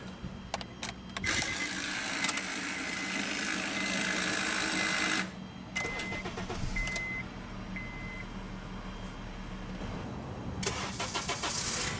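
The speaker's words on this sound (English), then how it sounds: "let's go ahead and start the engine" A 2010 Honda Accord LX-P sedan engine cranks and catches, then settles into a steady idle with a low rumble; a few clicks and brief electronic chimes sound over it.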